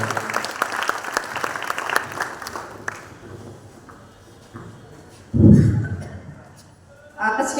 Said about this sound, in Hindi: जोरदार तालियों के साथ हम अभिनंदन करते हैं प्रधानाध्यापिका महोदय